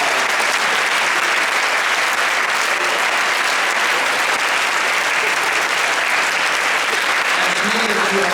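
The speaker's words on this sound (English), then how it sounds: "give them a big, warm round of applause" Warm, sustained applause fills a high school assembly hall, thick steady clapping from a large student crowd for over eight seconds without a break, with a faint murmur underneath.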